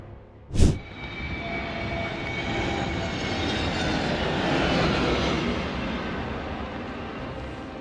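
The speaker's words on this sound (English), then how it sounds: "A crazy footage with a Bangladesh Air Force combat trainer aircraft." A Bangladesh Air Force combat trainer aircraft roars steadily after a short thump, its engine noise swelling and holding loud before easing slightly, with no voices.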